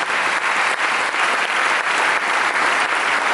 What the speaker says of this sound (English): Please, let's give a clap to this guy.